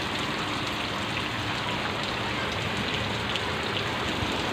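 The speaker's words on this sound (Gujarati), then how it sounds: "કેવો વરસાદ પડે છે" Steady, heavy rain pours down continuously, a dense hiss of drops striking surfaces nearby, with no voices.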